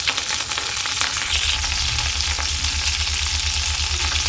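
Curry leaves crackle in hot oil in a kadai while a tomato and egg curry tempering is prepared, a loud, steady sizzle running throughout over a low, pulsing hum.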